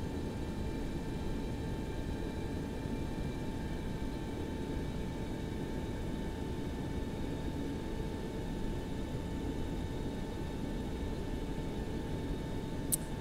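Steady whining drone of a Boeing 727's engines while taxiing in the X-Plane 11 flight simulator, an unbroken even roar with faint tonal hums throughout.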